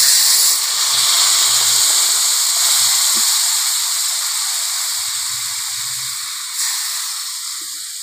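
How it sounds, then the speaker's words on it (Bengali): Water poured into a hot pan of fish curry with potato and eggplant sets off a loud, steady hiss of steam and sizzling that slowly fades over several seconds, with no voices. "এবার আমি জল দিয়ে দেবো।"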